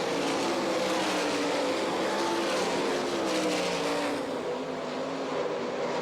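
World of Outlaws sprint cars racing a heat race on a half-mile dirt track in Rossburg, Ohio, engines roaring loud and continuous with pitch shifting as the pack circles.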